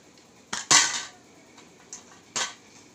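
Pieces of cut food set back onto the same plate, a few sharp ceramic and cutlery clinks and taps, close and isolated, with quiet gaps between them.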